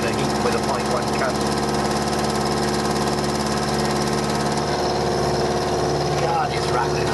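A metal milling machine runs through a cut with coolant brushed onto the cutter, producing a continuous loud, rapid mechanical rattle and chatter close by, with a busy, pulsing texture throughout.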